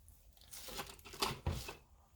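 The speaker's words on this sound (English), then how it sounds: "I don't want this dark blue that's on the cosmetic sponge, so I'm going to cut it off" A cosmetic sponge being snipped to remove a dark blue section, giving a couple of short, close crinkling, tearing cuts over quiet room tone.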